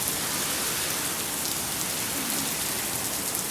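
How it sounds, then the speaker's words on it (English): Heavy daytime rain falling steadily, a dense continuous hiss of drops on surfaces, loud and even throughout with no breaks. "Heavy rain."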